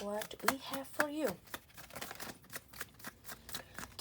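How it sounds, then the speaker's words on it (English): Tarot cards shuffled by hand close up, a run of quick papery riffles and taps, with a voice speaking over the start. "I'm going back to shuffling cards again, like I used to do before"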